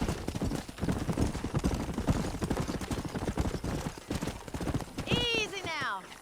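Galloping horse hooves pound in a rapid, close clip-clop rhythm in the Western video game Red Dead Redemption, running throughout and ending with a loud whinny, while a voice speaks over it.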